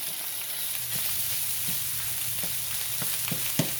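Vegetables and meat frying together in a pan for a homemade pizza topping, giving a steady close sizzle with occasional light stirring taps and scrapes, louder near the end, and no voices.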